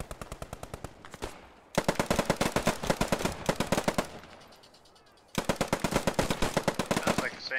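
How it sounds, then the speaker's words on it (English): Rapid automatic gunfire in the World War II shooter Post Scriptum rattles in three long bursts with short pauses between, loud and close, with faint talk underneath. "Sounds like the same guys running around shooting."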